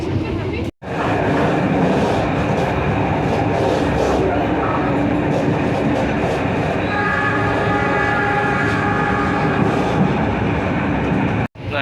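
Steady rumble of the Jayabaya passenger train in Indonesia running, a continuous dense roar with rattling, heard from inside the carriage, with a faint tonal whine near the end.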